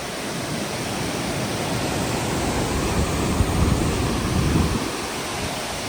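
Heavy monsoon-fed river water rushing through the Valparai hills, a steady, dense broadband roar that swells slightly in the middle and holds throughout with no voices.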